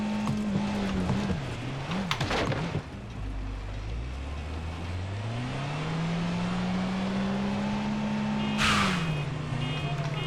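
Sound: car driving and engine in video game Far Cry 6

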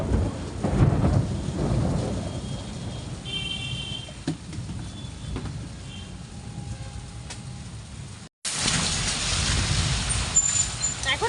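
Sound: thunderstorm with thunder and heavy rain

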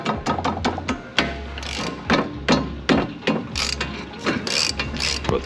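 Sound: ratchet loosening coilover strut top bolt

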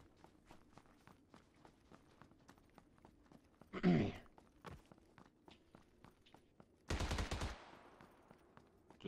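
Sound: gunshots in PUBG video game

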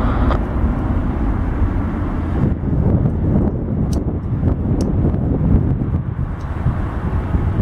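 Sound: airplane at Detroit Metro Airport

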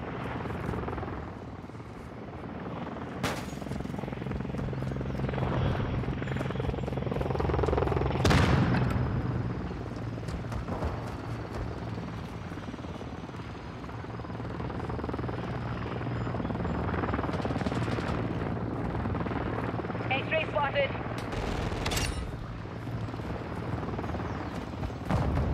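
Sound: attack helicopter air support, video game Call of Duty: Modern Warfare II

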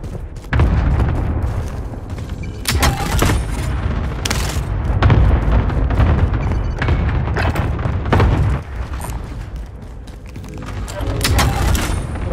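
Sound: explosions in video game

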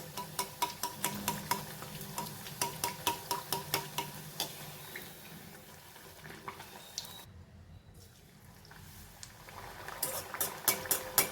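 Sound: puris frying in oil on medium gas

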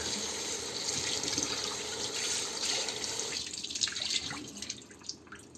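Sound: cold tap water running over a burnt teapot

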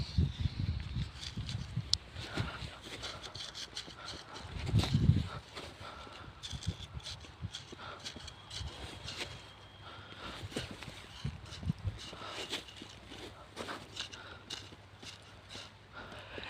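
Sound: horse running, hooves clip-clopping at a camp horse competition

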